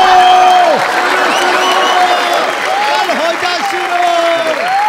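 A stage audience at a Marathi comedy show applauds and cheers loudly and continuously, a dense wash of clapping with rising and falling vocal tones mixed in.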